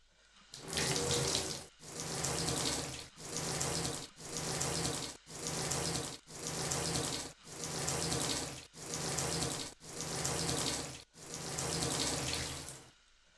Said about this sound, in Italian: facciamoci una bella doccetta